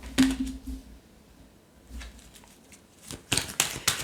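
Tarot cards are drawn and handled up close: a few soft papery flicks and slides, quiet pauses between, then a quick cluster of crisp card snaps near the end.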